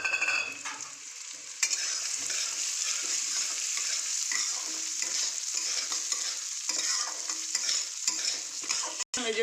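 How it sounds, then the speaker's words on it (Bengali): Moong dal lentils frying in hot white oil in a wok, a bright continuous sizzle with frequent close scraping and stirring clatter from a spatula. "এবার আমি ডালটাকে ভেজে নেব।"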